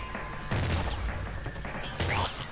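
A minigun in a video game fires in fast, dense bursts, two loud surges of rapid gunfire over a continuous rattling roar, with little speech.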